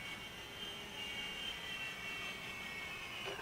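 A radio-controlled helicopter hovers and settles down to land, its motor and rotors giving a steady high whine with a faint low drone, quiet and fairly distant, no voices.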